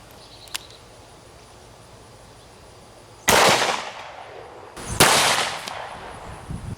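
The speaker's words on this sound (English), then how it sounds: "Let's shoot it one more time with a 44 Magnum, and this time let's use a 220 grain extreme penetrator made by Underwood ammo." Two loud 44 Magnum pistol shots with 220 grain Underwood extreme penetrator rounds fired at body armor outdoors, each a sharp crack with a short rumbling tail, about two seconds apart over faint insect chirping.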